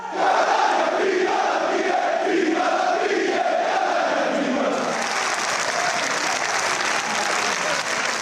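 More than 1500 Catania football fans in the stands at the Massimino stadium cheer and applaud during an open training session. The roar runs throughout, under a narrator's voice at first and then swelling louder on its own.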